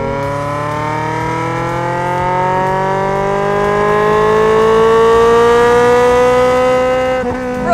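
A modified, race-style street-legal Ferrari 355 engine revs high and sustained, its loud pitch climbing steadily for several seconds before a brief dip near the end, with no talk over it.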